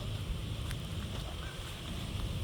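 Canada geese at a neighborhood lake honk faintly, mostly buried under a steady wash of wind and low rumbling noise, with only a few brief honks standing out.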